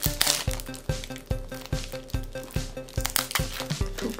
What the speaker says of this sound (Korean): 그럼 한번 뜯어볼게요.